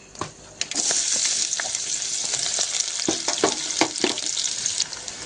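Onion, bay leaf, cloves, peppercorns, cinnamon, green chilli and red chillies fry in hot oil in a pan, with a steady loud sizzle and a few soft clinks of a stirring spoon.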